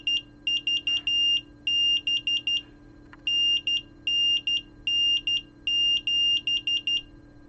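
An active buzzer driven by an Arduino R4 shrills out loud, rapid electronic beeps in short repeating bursts, clustered in a stuttering rhythm with brief pauses between groups.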